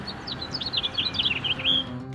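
A house finch sings a quick, bright warbling phrase of rapid chirps and twitters, close and clear over a low steady background hum.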